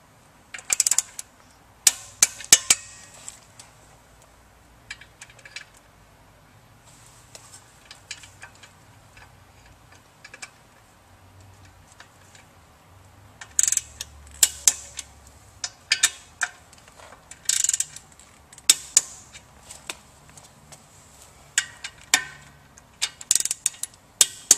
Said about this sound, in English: we'll go ahead and torque down the motor bolts.